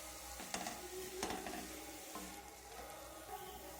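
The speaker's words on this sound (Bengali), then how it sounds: "এইভাবে আমি নেড়ে চেড়ে এই সজনে ফুলগুলোকে ভেজে নেব।" Soft drumstick flowers fry in a pan over medium heat, giving a quiet sizzle broken by a few stirring scrapes and clinks.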